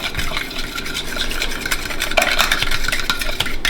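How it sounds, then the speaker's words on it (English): Pumpkin purée being stirred into protein donut batter in a bowl: continuous scraping and clinking of a utensil against the dish, close and fairly loud, with a few sharper knocks partway through. "we're going to go ahead and just stir this all up"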